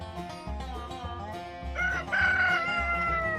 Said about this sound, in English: I love how you can hear chickens in the background.